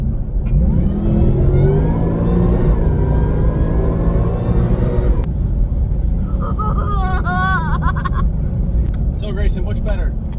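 A supercharged Ford Mustang S650 revs loudly nearby, rising and falling through several throttle sweeps, then settles into a rumbling idle as people talk briefly over it.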